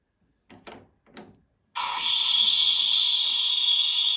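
An espresso machine's steam wand froths milk, bursting into a loud, steady, airy hiss that runs to the end after a couple of brief, softer sounds at the start.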